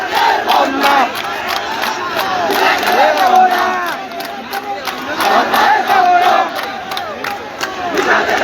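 A student protest procession in the streets of Jhenaidah, Bangladesh, with a large crowd chanting slogans in loud rhythmic call-and-response waves, close and continuous throughout.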